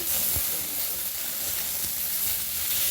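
Potatoes fry in a pan with a steady, close, crackling sizzle and hiss that continues evenly throughout, with no talking.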